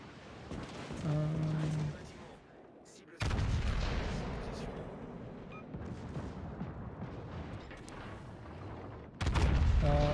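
Heavy battleship guns firing in World of Warships: Legends: deep booming salvos with rumbling tails, loud and close, two big blasts framing sustained roaring, with a voice speaking briefly underneath.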